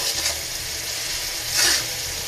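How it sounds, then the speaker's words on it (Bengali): Fish is fried with spices in a pan, a continuous broad sizzle that swells briefly louder partway through as the pieces are stirred, no one speaking. "এই যেভাবে আমি মশলা দিয়ে মাছগুলো কষিয়ে নিলাম"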